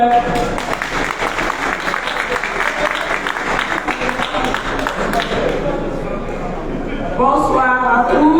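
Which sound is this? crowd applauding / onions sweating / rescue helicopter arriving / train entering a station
crowd applauding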